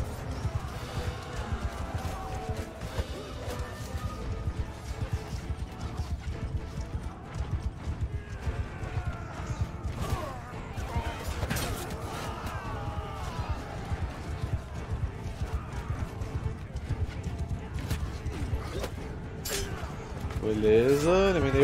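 Horse hooves gallop in a siege battle in the video game Mount & Blade 2: Bannerlord, a steady clip-clop beating beneath continuous battle din and voices.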